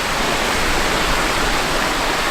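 Water pouring over Lumsdale Falls in Derbyshire makes a steady, dense, full rushing roar. It holds constant and loud throughout, with no pauses and no voices.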